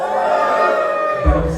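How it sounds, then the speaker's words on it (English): A stand-up comedy audience cheers and whoops together in a hall, a loud mixed burst of voices lasting about a second before a low thump near the end. "Give me a cheer."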